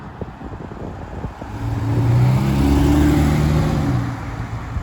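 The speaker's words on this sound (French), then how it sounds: "Tiens, une petite Porsche qui passe." A Porsche drives past on a Paris street, its engine swelling to a throaty mid-range hum as it nears and then fading away over a few seconds against steady traffic noise.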